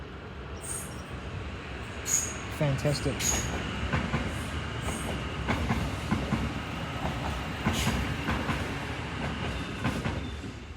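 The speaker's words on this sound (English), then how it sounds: "Another train coming out of the tunnel." A train rumbles out of a railway tunnel near Parnell, heard from a hammock inside the tunnel, with a sustained roar, rattling wheels and brief squeals building to loud bursts; a voice speaks briefly.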